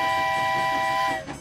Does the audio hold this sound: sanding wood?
no